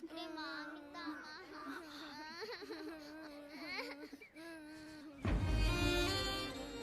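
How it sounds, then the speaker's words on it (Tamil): A small child cries in a wavering, sobbing wail that rises and falls for several seconds, close and loud, before a burst of music and noise takes over near the end. "சின்ன பசங்க ஏன் இப்படி அழுகுது"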